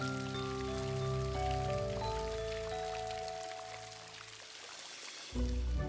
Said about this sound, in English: That's right, but you hear the water.